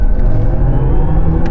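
An electric BMW powering out of a corner gives off a loud, close, steady rumbling drone that keeps rising throughout.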